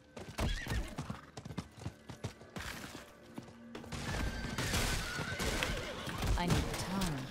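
Horse hooves clip-clop at a gallop in Diablo 4, punctuated by neighs and whinnies, with a dense game soundscape of clattering and effects swelling toward the end.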